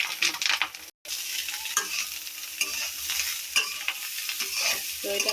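Egg fried rice stirred and fried in a pan in a village kitchen, with steady sizzling and repeated scraping strokes of the spoon, close and fairly loud, briefly cutting out near one second.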